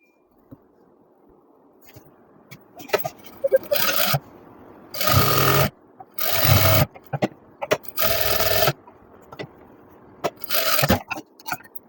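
A sewing machine stitches trouser pocket seams in several loud, steady bursts of rapid mechanical whirring, each lasting about a second, separated by short pauses with faint handling of the fabric.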